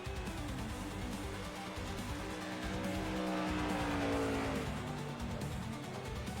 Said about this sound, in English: the number 88 tonight slips up. Backs it into the outside retaining wall